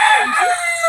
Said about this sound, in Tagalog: Manok na pre.